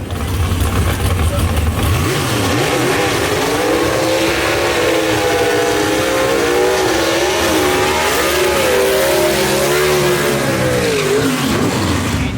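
A gasser drag racing car at full throttle down the dragway at Shadyside, its engine roaring loud and steady, the pitch rising and falling through the run for the whole stretch.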